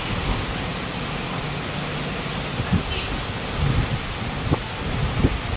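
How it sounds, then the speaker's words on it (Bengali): Heavy rain pours steadily at Mandarmani beach, a loud, dense wash of noise with wind buffeting the microphone and a few low thumps, without any talking. "কি বৃষ্টি"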